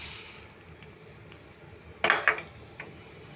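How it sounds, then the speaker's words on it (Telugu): A cup of sesame seeds tipped into a kadai pan, a brief close clatter and rattle of seeds striking metal in two quick bursts, then a lighter clink, over quiet kitchen background. "ఇదిగోండి, ఒక కప్పు నువ్వులు వేసుకుంటాను"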